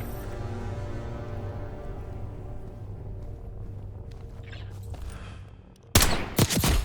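Gunshots ring out in the video game Call of Duty: Black Ops 6. A low rumbling ambience with faint tonal hum gives way near the end to a sudden loud burst of several sharp, close shots.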